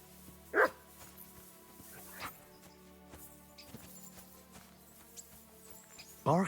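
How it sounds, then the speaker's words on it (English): Dog barking in Kingdom Come Deliverance 2, two sharp barks, one near the start and one at the end, over a low humming game ambience. "Barking."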